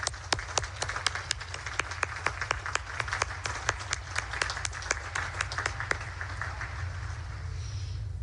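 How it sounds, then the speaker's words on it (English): An audience applauds the parents at a Naval Academy commencement, with dense, steady clapping and sharp individual claps standing out above the crowd throughout. "How about one more round of applause for our parents out there?"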